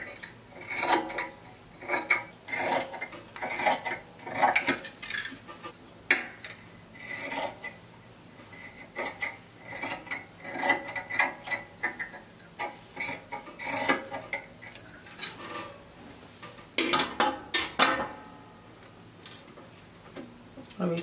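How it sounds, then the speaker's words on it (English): Scissors snip through fabric while a cowl neck top is cut out, giving repeated short crisp clicks and slicing strokes in an irregular rhythm, close up, with light handling noise and faint background sounds. "So I will go ahead and cut it out."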